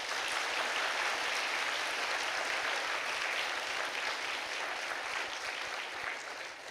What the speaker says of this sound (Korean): 다시 한번 박수로 축하하겠습니다